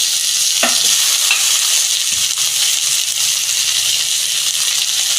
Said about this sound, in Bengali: পেঁয়াজ ভাজা হয়ে গেছে আমি টমেটোটা দিয়ে দিচ্ছি